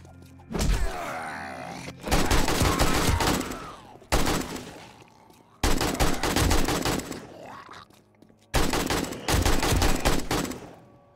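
Loud, close gunfire from 7 Days To Die Alpha 20 comes in five heavy bursts of rapid shots, each lasting a second or two, with brief quiet gaps between them.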